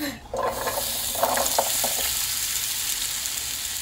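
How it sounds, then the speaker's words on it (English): Potatoes sizzle and crackle steadily in a hot pan, with a few clinks and stirring scrapes near the start. "the potatoes are done, which you can definitely hear sizzling"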